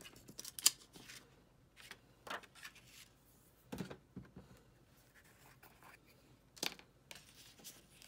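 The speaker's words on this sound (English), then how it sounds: "I'll just cut out the ones I want to use" Scissors cutting out paper card pieces for a crafting project, heard as faint, close snips and crisp paper rustles spaced irregularly in a quiet room.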